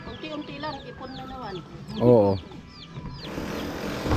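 Several chickens cluck in short, rapid calls close by on a rural plot, with one louder squawk midway and faint background noise.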